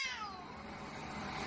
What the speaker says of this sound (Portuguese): ouvia barulhos de gatos